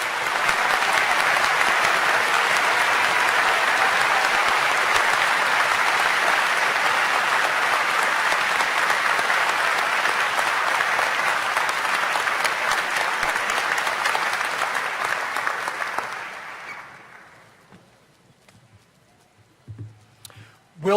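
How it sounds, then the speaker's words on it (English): Sustained, loud applause from a large audience at a Johns Hopkins medical school convocation, celebrating the graduating class. It holds steady for about sixteen seconds, then fades quickly into near quiet. "And so one final round of applause for that class of 2015."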